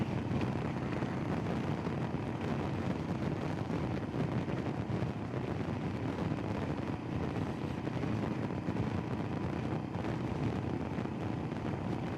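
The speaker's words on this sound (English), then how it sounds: "It sounds a lot more windy on this compared to the" Steady, heavy wind buffets the microphone while riding a Royal Enfield Himalayan motorcycle, with a constant low rumble and roar, continuous throughout with no voices.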